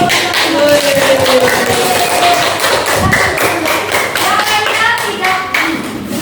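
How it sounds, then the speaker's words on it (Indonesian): A classroom of students claps hands during a lesson, with irregular taps and thuds mixed with clapping over loud, busy room noise and a voice. "Beri tepuk tangan untuk"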